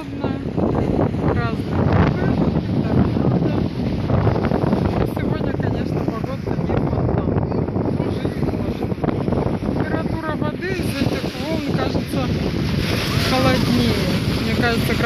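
A strong storm wind buffets the microphone on the central beach at Yeysk on a hot day, with breaking waves surging underneath in a loud, continuous roar that never lets up.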